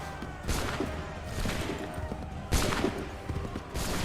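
Musket volleys firing in the Assassin's Creed III video game: four loud, sharp bursts of massed gunfire at roughly one-second intervals over battlefield rumble.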